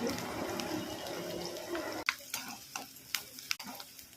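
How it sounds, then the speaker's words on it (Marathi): Mustard seeds and curry leaves sizzle in hot oil for poha. A dense crackling fry settles after a sudden drop into quieter sizzling, with sharp pops and spits popping out. "राई टाकू, तेल गरम झालंय, थोडी राधा टाकू, थोडा कढीपत्ता पण टाकू."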